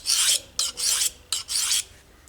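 Knife blade rasps across an Atoma 400 grit diamond sharpening stone in four quick, close scraping strokes, harsh and gritty, with brief pauses between them and no voice.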